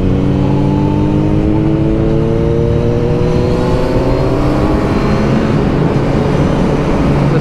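Suzuki Hayabusa Gen1 motorcycle ridden hard through hilly corners, its engine droning loud and steady with rising and falling pitch sweeps as it revs through gears, heavy wind rush underneath throughout.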